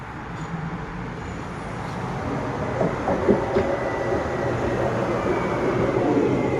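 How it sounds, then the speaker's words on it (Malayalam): Steady rumbling of a tram arriving at a stop in Lille, with a few faint clanks and squeals, rolling close by at moderate loudness. "ട്രാം ഇതാണ് ട്രാം"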